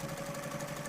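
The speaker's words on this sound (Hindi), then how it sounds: "सिलाई मशीन का दिन भर शोर करती रहती हो।" A household sewing machine runs steadily indoors, giving a continuous mechanical whir with a fixed motor hum, loud and close, with no talk.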